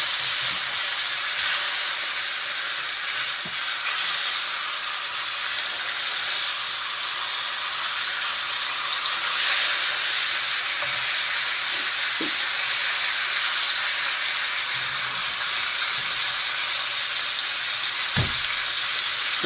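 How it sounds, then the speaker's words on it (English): Pork chops browning in a frying pan sizzle with a steady, loud hiss throughout, broken by a few faint clicks and taps of handling. "We'll go ahead and continue to brown for another 3 or 4 minutes on this side."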